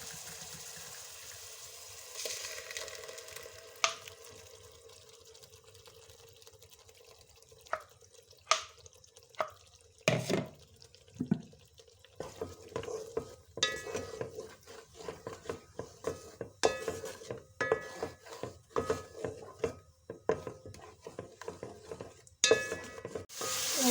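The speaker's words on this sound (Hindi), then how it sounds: "अब मैं इसमें 2 अदद छोटे टमाटरों का पेस्ट डाल दूँगी।" Tomato paste made from two small tomatoes fries with masala in a pan for aloo gajar sabzi, giving a soft, steady sizzle punctuated by repeated stirring clicks and scrapes.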